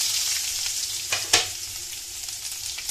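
Ingredients for sinigang na bangus fry in hot oil as they are stirred, a close, steady sizzle with a sharp scrape of the utensil partway through and lighter stirring after.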